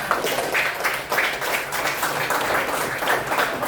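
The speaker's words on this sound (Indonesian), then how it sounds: "Tepuk tangan." A small group of students and a teacher clap together in a classroom lesson, a close, somewhat uneven patter of hand claps with slight rhythmic pulses throughout.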